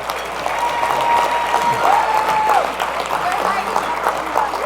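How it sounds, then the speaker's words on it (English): Applause from the crowd at a New Orleans Saints Hall of Fame induction luncheon, steady and sustained throughout, with faint voices and a whistle-like tone riding over it. "Please give them a round of applause."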